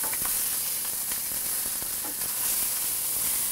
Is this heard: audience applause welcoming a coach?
no